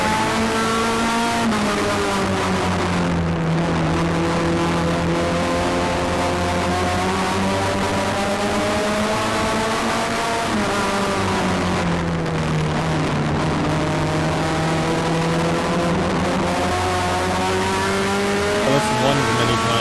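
Race cars battle through a 25-lap feature at Flamboro Speedway, engines roaring loud and continuous up close as the pitch rises and falls through laps of acceleration and lifting, with no talking.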